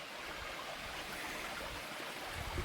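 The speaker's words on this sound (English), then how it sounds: "I hear water." A steady, close rush of clean stream water flowing beside a backpacking trail in Pennsylvania elk country, a continuous broadband wash with no talk.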